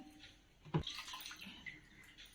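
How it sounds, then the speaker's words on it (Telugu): Faint splashing and sloshing of water on a hard house floor being washed, with one sharper splash near the start, quiet and close, with no voices. "కొద్దిగా ఇల్లు కడిగేస్తాను"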